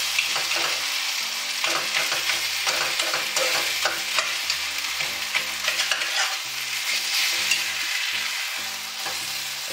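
A fish head goes into fried spice paste in a pan, producing a loud, steady sizzle with frequent stirring clatter and scraping. The sizzle eases slightly near the end, and no one speaks.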